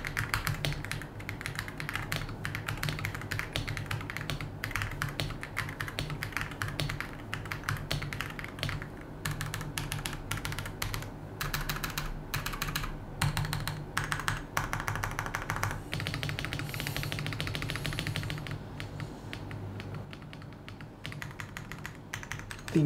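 Steady typing on a Monsgeek M1 V5 mechanical keyboard with linear switches, close and continuous, with soft low-pitched keystrokes in quick irregular bursts and brief pauses.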